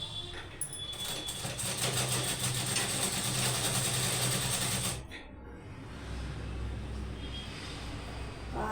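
A foot-treadle sewing machine with no motor stitches Punjabi dress pants, giving a steady mechanical whir and rattle for about five seconds before it slows and settles into a lower hum.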